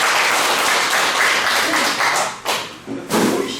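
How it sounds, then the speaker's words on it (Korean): An audience at a talk on vinegar making claps together, loud dense applause that swells, dips briefly, then rises again in a few quick bursts. "박수 한번 쳐볼까요?"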